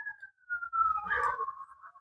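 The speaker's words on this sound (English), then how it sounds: "I hear a lot of sirens. I don't know if something happened out there." Emergency sirens outside on a late Sunday evening, heard faintly as a distant wavering tone that rises and swells briefly mid-clip before trailing off.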